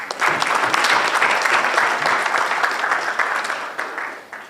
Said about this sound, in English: I think Dr. Sokwala or Professor Sokwala deserves a bigger round of applause.